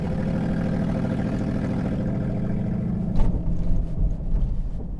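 A donk car's engine idles with a steady low rumble on a rough road, then a brief surge and uneven revving near the end.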